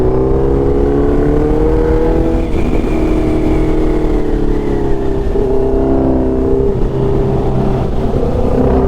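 A 2011 Ténéré 660 motorcycle engine drones steadily and loudly throughout, its pitch rising and falling as it revs, with no voices.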